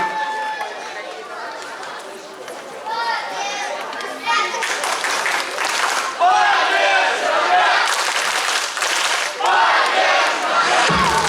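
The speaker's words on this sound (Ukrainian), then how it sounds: "Зустрічаємо їх оплесками." An audience of children at a song festival cheers, shouts and chatters in a loud, continuous crowd roar that swells and stays dense throughout. Excited voices dominate and clapping is hard to pick out.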